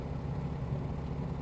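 Lockheed Electra aircraft engine in a flight simulator, a steady low droning hum that stays even and unbroken throughout, sounding more like a small tractor engine idling than a large propeller airliner.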